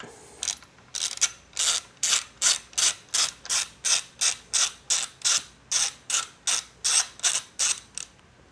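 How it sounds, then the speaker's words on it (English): A ratchet wrench tightening a frame slider bolt onto a 2024 Honda CBR650R E-Clutch motorcycle, clicking in about eighteen steady, evenly spaced strokes, close and clear with no talk. "And then you just go ahead and tighten it right to the bike."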